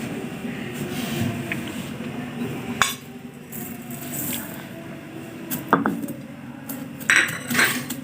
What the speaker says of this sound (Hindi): ये तीनों चीज़ें मैं इमाम दस्ते में मोटा मोटा कूट लूँगी